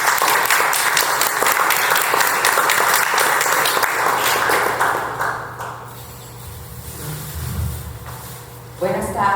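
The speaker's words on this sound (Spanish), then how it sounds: "vamos a darle un gran aplauso," An audience at a tribute event for a poet claps in a dense burst that fades out after about five seconds, leaving a low engine-like hum and room noise.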